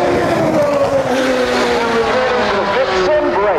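A race car roars past at the Goodwood Festival of Speed, its engine note sliding steadily downward in pitch as it passes close and loud, with a brief gear-shift-like rise near the end.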